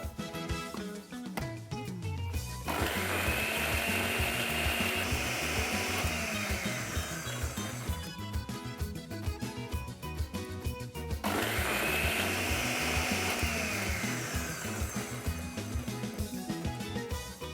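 Electric mixer grinding ginger, vinegar and sugar into a paste, its motor whirring loudly in two long bursts separated by a short pause, close and with no speech.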